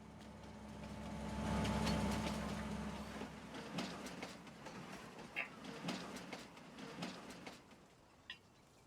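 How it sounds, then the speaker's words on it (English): A train rolls past in Farming Simulator 19, its low rumble swelling and fading before a string of rhythmic clickety-clack wheel clicks on the rails, moderately distant with no voices. "Aha! Train."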